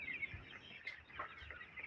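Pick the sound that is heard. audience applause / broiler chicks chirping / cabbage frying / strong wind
broiler chicks chirping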